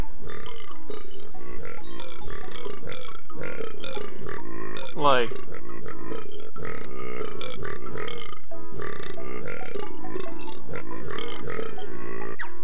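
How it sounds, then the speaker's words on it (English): A character in the video game Banjo-Tooie burps loudly, mixed in with game music, sound effects and ongoing talk from a commentator. "Weird that he talks and burps."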